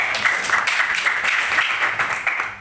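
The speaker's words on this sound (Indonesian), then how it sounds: "tepuk tangan untuk Jenwasa" Dense, steady clapping from an audience at a dormitory leadership training programme presentation, close and even throughout before tapering off at the end.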